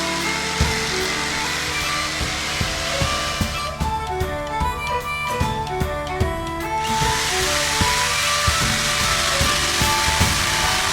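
A handheld power drill runs on a board while building a gaming table, steady whirring broken by short bursts and knocks of the bit, close and loud with no talk.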